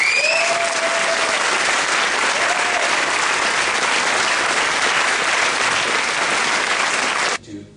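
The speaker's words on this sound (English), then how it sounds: "Can we have a round of applause for all of them?" Conference audience applauding steadily and loudly, a dense continuous clapping that holds for about seven seconds before cutting off abruptly.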